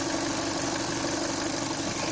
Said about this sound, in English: So here's how engine works with the purge valve connected.